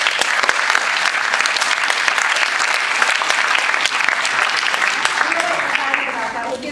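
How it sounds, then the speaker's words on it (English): An audience at an Iowa State architecture premiere event claps loudly and steadily for award sponsors, a dense sustained applause that tapers slightly at the end. "Just a quick applause for anyone who here is part of that"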